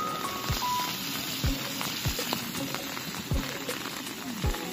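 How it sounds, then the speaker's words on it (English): Rain falling at night on a Chinese university campus, a soft continuous hiss with scattered drips and taps, fairly faint throughout. "Now it is raining."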